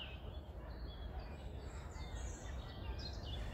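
Faint birds chirp and call in the distance over a steady low outdoor rumble, with scattered high twitters throughout, in Battersea Park, London, in late winter.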